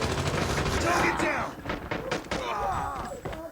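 Gunfire in the mobile shooter game Call of Duty Mobile, a dense burst of shots in the first seconds followed by scattered thuds and further rounds, with a voice talking over the action.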